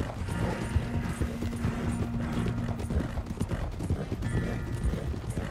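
Horse hooves clatter in a fast, steady galloping rhythm in Red Dead Redemption 2, close and continuous for several seconds with faint game background underneath.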